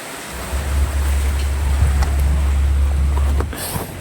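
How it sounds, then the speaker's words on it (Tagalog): Strong wind blows steadily outdoors with a loud, low rumbling roar and buffeting, sustained for several seconds before easing, with faint background hiss and no talking. "Mahangin na naman o."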